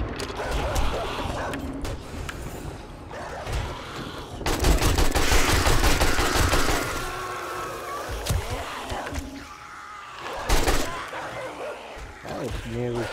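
An AK rifle fires in the video game 7 Days to Die. Bursts of rapid gunfire and mechanical clatter come in several loud clusters over a busy background, mixed with a person talking.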